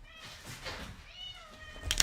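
A house cat named Kit Kat meows a few times, moderately close, in a quiet room with a dog nearby, ending in a louder, sharper call.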